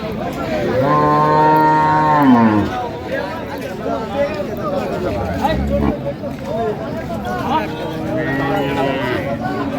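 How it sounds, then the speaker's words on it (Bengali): A cow at a busy cattle market lets out two long, loud moos close by, with chatter and the murmur of a crowd around it between and under the calls. "এই যে গরুটি দেখছেন"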